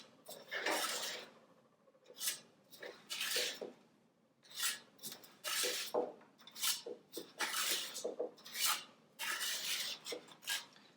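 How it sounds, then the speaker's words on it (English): A small metal spatula scrapes and slides across a baking pan as cut scones are pushed apart, producing a series of close, rasping strokes in uneven bursts with short gaps. "I have just a little spatula here, and I'm going to take each one of these and just move them apart from each other."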